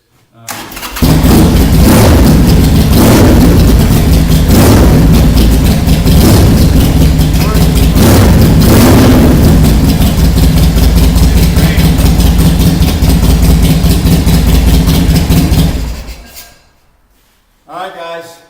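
A 2003 Harley Davidson 1200 Sportster motorcycle engine runs loud and close with a deep, throbbing rumble and a few revs for about fifteen seconds, then shuts off, followed by one brief final burst.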